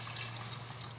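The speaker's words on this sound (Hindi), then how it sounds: "थोड़ा सा पानी मैंने इसमें डाला है, जो दही डाला था" A little water poured into yogurt for karhi, a soft, brief trickle and splash close by with a low steady hum underneath.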